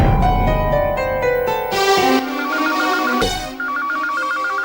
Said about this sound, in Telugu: నాకు వేరే ఫోన్ వచ్చింది